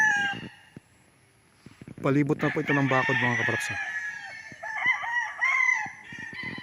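Roosters crow on a fenced game farm lot in Pagsanjan, Laguna, several loud drawn-out crows close by with clucking hens between, while someone talks over them.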